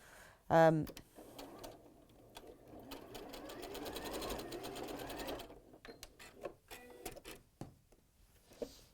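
A sewing machine stitches a dress, a close mechanical whirring run of needle strokes that starts and stops in short bursts, with a brief squeak and clicks near the start and people talking over it.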